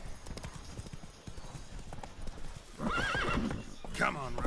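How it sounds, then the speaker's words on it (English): Roach, Geralt's horse in The Witcher 3 video game, clopping hooves in a steady rhythm, then a loud neighing whinny over the game's sounds. "stop going in circles, Geralt, and get on the fucking horse"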